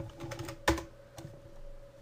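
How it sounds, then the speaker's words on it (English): Computer keyboard typing while a download code is entered, with a handful of light, irregular key clicks and one sharper, louder press near the middle, close and quiet. "type in the code"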